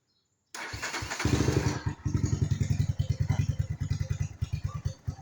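A Phantom 200 motorcycle engine fires up after a brief silence and settles into a loud, close, pulsing low-speed run with a rhythmic, slightly uneven thump.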